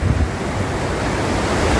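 Sea waves wash onto the shore at Thattanthura beach in the evening, a loud, continuous surf roar with wind rushing across the microphone.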